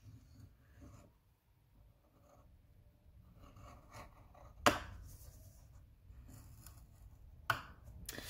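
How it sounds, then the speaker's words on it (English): Cardstock scored with a Simply Score tool, quiet scraping and rubbing with two sharper clicks, close and faint, with no talk. "we're gonna score this using our Simply Score tool"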